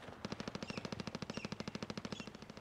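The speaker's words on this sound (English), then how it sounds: "Hey, somebody shooting at us." Automatic gunfire in the video game Warzone: a rapid, even burst of many shots in sequence, crisp and continuous for a couple of seconds with no talk over it.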